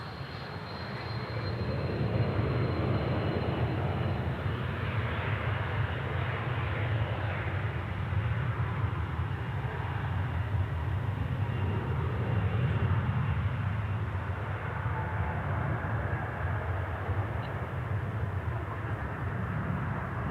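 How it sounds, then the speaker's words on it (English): An Airbus A220 airliner from Salt Lake City roars steadily at an airport, a sustained broad engine rumble and whoosh that swells and holds for the whole span without speech. "There is our A220 from Salt Lake City"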